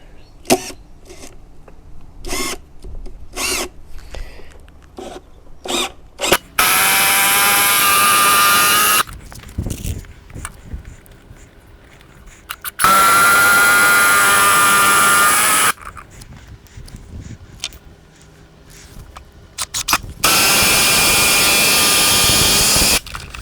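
A power drill pre-drilling screw holes for a backyard grow tunnel whirs in three loud bursts of a few seconds each, separated by quieter clicks and handling noises.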